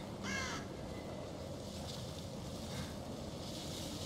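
A crow caws once, a short harsh call early on, in the horror video game The Evil Within, over a steady windy, watery ambient background.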